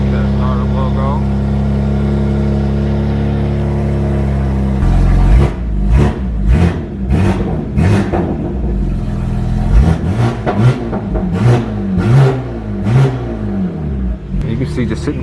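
A BMW M4 G82 engine cranks and fires, then settles into a steady idle punctuated by a series of sharp revs, close and loud, with someone talking over it.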